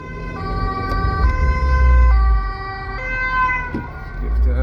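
An ambulance siren passing on the road, a loud two-tone wail alternating in a steady rhythm over car engine rumble, with its pitch dropping slightly as it goes by.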